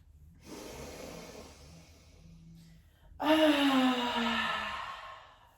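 An open-mouth exhale during gentle seated restorative yoga: a soft breath, then a loud, breathy, sigh-like outbreath that trails off slowly, close and with no talking.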